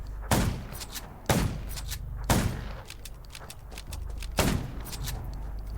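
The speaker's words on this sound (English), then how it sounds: "Gunshots will attract more." Four loud, sharp gunshots in the zombie survival video game Undawn, spaced unevenly about a second apart, each with a booming low-end tail, over a quiet rumbling background.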